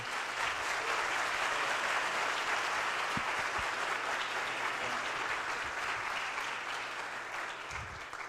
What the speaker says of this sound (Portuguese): Pessoal, uma salva de palmas para o Alceu